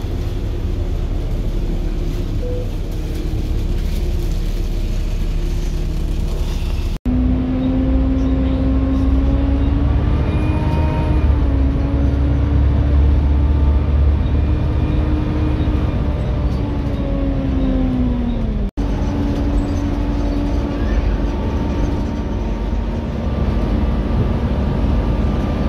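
A bus engine drones steadily as it pulls into St. Ives bus station in Cornwall, with a loud continuous rumble and a whining tone that rises and falls as it slows and manoeuvres.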